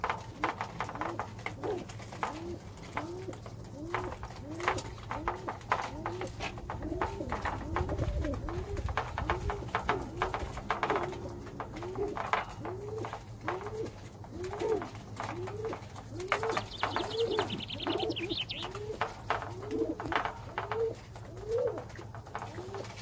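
Bango pigeons coo steadily in a loft where young are being fed, a dense run of repeated, rhythmic coos from several birds close by over a constant low hum, continuing unbroken for the whole stretch.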